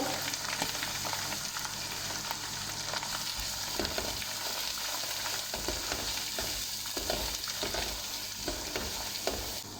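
Mixed vegetables (potato, carrot and peas) seasoned with turmeric and salt fry in a pan, a soft even sizzle broken by repeated scraping stirs, fairly quiet and with no speech.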